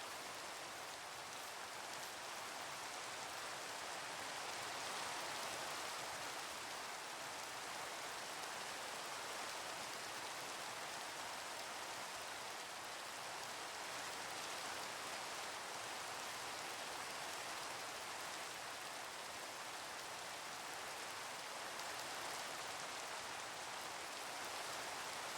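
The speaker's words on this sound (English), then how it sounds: "And of course it's raining" Rain falls steadily outdoors, a continuous even hiss of drops that stays unchanged for the whole stretch, with no voices.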